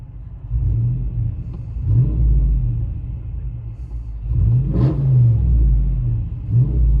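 A 2015 RAM 2500 Power Wagon with a 6.4L Hemi V8 and straight-pipe dual exhaust rumbles deep and loud from inside the cab, swelling through several rev surges over a steady low idle.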